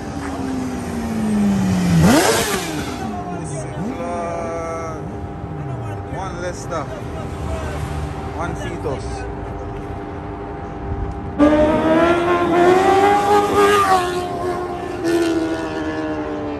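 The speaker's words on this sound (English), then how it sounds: "I heard the revving" Motorcycles on a bike run in Mandeville, Jamaica, rev loudly nearby, with engine pitch sweeping up and down in repeated bursts and a louder surge later, amid outdoor traffic noise.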